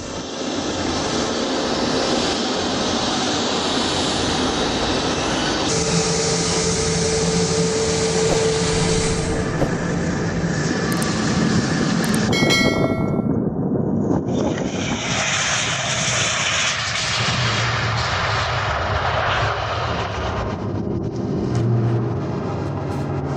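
A Sukhoi jet roars continuously overhead during a demonstration joy flight, a loud broadband engine rush that shifts in tone as it passes.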